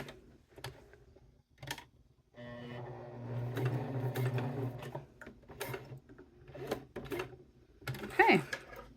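A sewing machine stitches a cork wallet around a curve in short, close bursts of rapid mechanical ticking, with one longer run in the middle, separated by pauses and brief handling noises.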